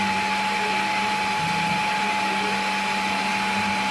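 A Hyrel Hydra 3D printer fitted as a mill makes a final shallow cleanup skin cut in PTFE, a loud, steady whirring spindle whine with a constant high tone throughout, no speech.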